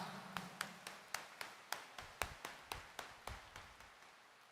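A church congregation claps hands in steady unison, a sharp, even beat of about three claps per second that carries on evenly, faint and slightly distant, with no voices over it.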